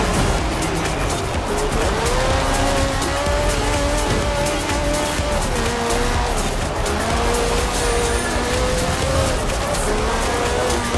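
A race car in Forza Horizon 4 revving loudly and continuously, with the engine pitch rising and falling through gear shifts and tires squealing underneath, close and constant.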